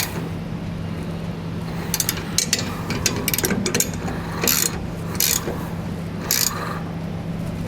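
A ratchet tightening the pinch bolts on a truck bed ladder rack, sounding as short bursts of rapid clicking strokes at close range over a steady background hum.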